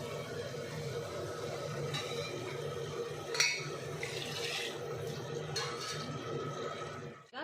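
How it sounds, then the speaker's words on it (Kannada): Water pours onto rice in a pressure cooker as a faint, steady trickling wash, with a few brief clinks and splashes along the way. "ಐದು ಗ್ಲಾಸ್ ನೀರು ಹಾಕ್ತಾ ಇದ್ದೀನಿ ಯಾಕಂದರೆ ಕುಕ್ಕರಲ್ಲಿ ಮಾಡೋದ್ರಿಂದ ನೀರು ಕಡಿಮೆನೇ ಹಾಕಬೇಕು"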